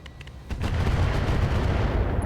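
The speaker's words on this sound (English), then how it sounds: "we're going to drop artillery on this Warhammer 2C" An artillery strike in the mech video game RogueTech, a sharp crack followed by a sustained, heavy rumbling barrage of deep booms that stays loud to the end.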